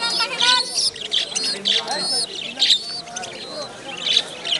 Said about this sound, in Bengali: কবুতরের বাচ্চাও আছে।